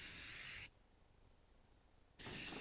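Joico Beach Shake texture spray misted onto hair from a can: two loud, close aerosol bursts with a brief quiet gap between them.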